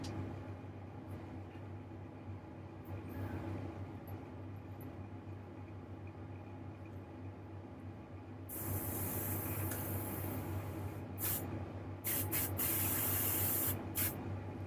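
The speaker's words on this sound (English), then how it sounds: "I'm going to crank my PSI up on my compressor to about 30." A low compressor hum runs throughout, then a loud airy hiss of airbrush spraying at about 30 PSI starts midway, with a few short bursts near the end.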